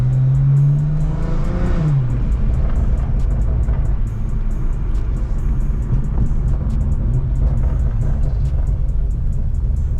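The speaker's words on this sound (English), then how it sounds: "you can hear the exhaust" A BMW M340i's exhaust drones from inside the car while driving, a loud, low continuous rumble with a brief rev and gear change early on, then steady cruising road noise.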